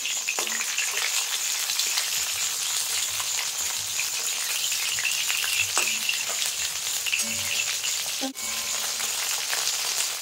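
Folui fish pieces keep frying in hot oil in a wok, giving a close, even crackling sizzle throughout with a few faint clicks and one short break near the end.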